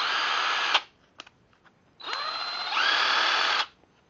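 An 18-volt cordless 1/4-inch hex impact driver runs unloaded with the variable-speed trigger in two loud, close bursts of motor whine. The second burst jumps up in speed partway through, with short clicks in the quiet gap between.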